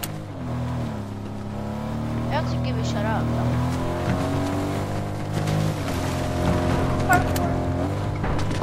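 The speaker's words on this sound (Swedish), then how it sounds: "Hoppa in i min bil, Kalle." A car engine in Fortnite hums continuously with rising and falling pitch as it drives, accompanied by game effects and scattered gunfire-like pops in the background.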